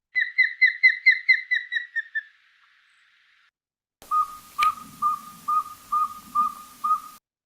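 Recorded bird calls play back from an H5P training slide: a quick run of about ten bright whistled notes, a short silence, then a different bird giving evenly spaced whistled notes over faint hiss.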